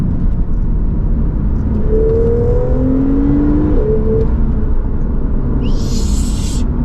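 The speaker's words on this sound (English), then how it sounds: "You can really hear the turbines." A 991.2 Porsche 911 Targa 4S turbo engine drones steadily with a rising whine sweeping upward through the middle, and a brief hiss near the end, all fairly loud and close.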